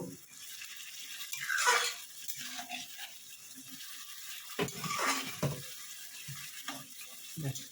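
Water is poured into a prawn curry in a pan with two soft splashing pours a few seconds apart, faint and close, with light scraping and bubbling in between.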